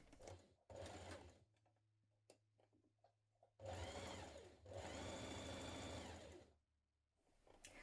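A sewing machine stitches around a dress pocket in bursts, running with a steady close whirr for a second, then pausing, then resuming in longer runs of about three seconds, with faint handling clicks between runs and no voices.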